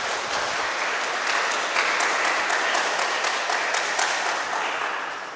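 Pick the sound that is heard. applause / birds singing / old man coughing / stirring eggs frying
applause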